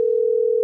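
A steady, pure electronic ringing tone from an outgoing phone call holds at one even pitch for under a second, clean and close with nothing else behind it.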